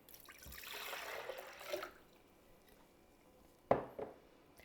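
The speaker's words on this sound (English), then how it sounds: "I have 3 cups of water that I'm adding to my blender" Refrigerated cold tap water poured into a blender: a close, soft rushing pour for under two seconds, then quiet, followed by a couple of sharp knocks as the container or lid is handled.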